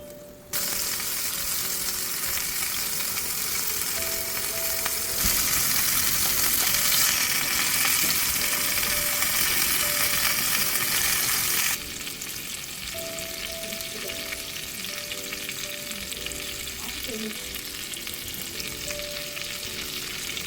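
A large piece of butter garlic fish, browned on one side, sizzles loudly and steadily in a pan; the hiss drops a little partway through and then carries on evenly, with no talking.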